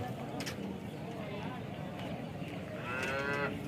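A cow moos at the Chintamani cattle market, a drawn-out call rising near the end over a constant hum of people talking nearby.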